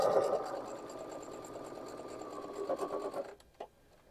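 A sewing machine stitches a seam on a Friendship Star quilt block, a steady close rapid whirring hum for about three seconds that stops abruptly, leaving a couple of faint clicks.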